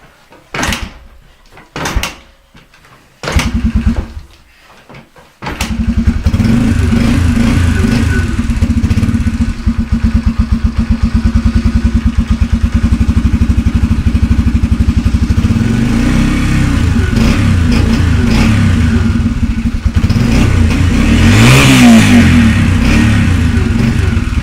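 A TR125 motorbike engine starts with a few short bursts, then idles and revs steadily up close for about twenty seconds, a continuous loud throaty drone with rising and falling pitch.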